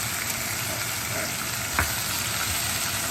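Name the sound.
stirring beef and zucchini stir-fry in a pan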